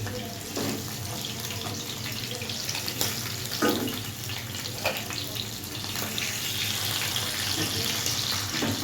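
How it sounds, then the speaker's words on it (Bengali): Aar fish frying in mustard oil in a wok makes a steady, close, continuous hiss and sizzle with occasional sharper crackles and spatter bursts, no talking. "এইভাবে আমি বাকি মাছগুলোকেও ভেজে নেব"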